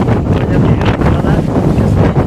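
Strong rainstorm wind buffets the microphone in heavy, continuous roaring gusts, loud and close, with no voices.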